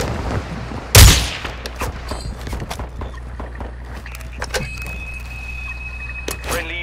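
Gunfire in the Call of Duty video game: one loud, close blast near the start, then scattered lighter shots, clicks and footstep-like taps over a steady low background, with no talking.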